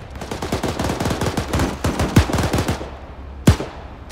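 Rapid machine-gun bursts in a video game, a fast run of loud cracking shots followed by a few isolated heavier booms, close and alone without talk.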